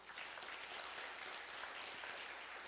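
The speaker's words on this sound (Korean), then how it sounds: "이분들께 힘찬 박수 좀 쳐주시죠" Audience at a Korean automotive industry international seminar in Dangjin applauding the event organizers, a steady, fairly distant wash of clapping filling the short stretch.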